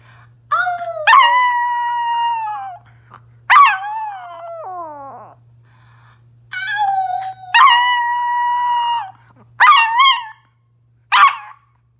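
A dog howls in long, wavering, pitch-sliding tones, breaking into sharp barks and whimpers, close and loud across several separate outbursts with brief pauses between them.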